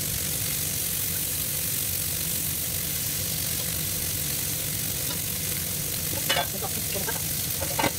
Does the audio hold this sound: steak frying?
yes